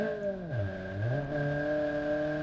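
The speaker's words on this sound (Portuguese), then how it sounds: "Fiat Uno, vai lá, fi, acelera." Fiat Uno accelerating in BeamNG Drive: a steady, droning engine note that dips briefly as revs drop, then climbs and holds through a gear change, close and continuous with no talk.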